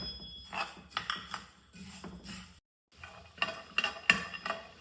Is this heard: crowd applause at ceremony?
no